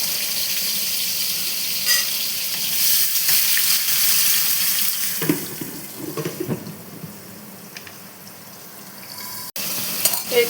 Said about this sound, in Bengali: আলু আর পটলটা ভেজে নিচ্ছি।